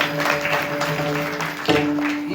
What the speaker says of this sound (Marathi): या तिघांसाठी सर्वांनी एकदा जोरदार टाळ्या वाजवा